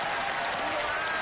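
Studio audience at a magic performance giving a round of applause, a thick, steady wash of many hands clapping close by, continuous and loud.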